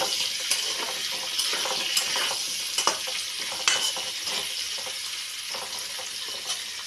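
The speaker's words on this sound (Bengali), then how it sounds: "আলু ভাজা হচ্ছে।" Potatoes and cauliflower fry in a pan with a continuous bright sizzle of hot oil, broken by occasional sharp pops and spatters and a few stirring clicks, close by with no talking.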